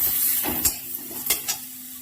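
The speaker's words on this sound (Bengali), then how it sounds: "এবার একটু ভালো করে নেড়ে নিই" Hilsa fish curry seasoned with salt and turmeric sizzles in the pot while a spoon stirs it, giving a few distinct scraping strokes over a steady frying hiss.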